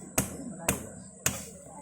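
Three sharp hammer blows, evenly spaced about half a second apart, each a crisp close strike with a brief ringing decay, against a quiet background.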